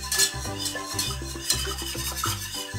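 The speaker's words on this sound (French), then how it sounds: "On ne cesse pas de mélanger et on reste vraiment devant jusqu'à ce que ça épaississe" Spoon stirring a coconut cream dessert in a pot on the stove as it thickens, a steady run of scraping strokes against the pan, rhythmic and close, with no talk.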